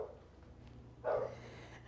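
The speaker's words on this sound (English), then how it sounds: "And you hear Queen Maple outside barking her head off." A dog barking outdoors, one muffled, distant bark about midway through a quiet indoor kitchen background, with no talking.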